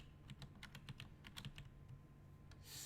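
Keys clack in irregular quick bursts on a Rockhat computer keyboard while someone codes, close and crisp with short pauses between strokes and a low hum underneath.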